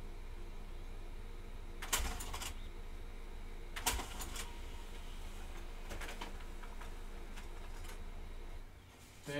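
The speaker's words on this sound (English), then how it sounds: "Now send that to the printer." A printer hums steadily while feeding a page, with a few sharp mechanical clunks every couple of seconds.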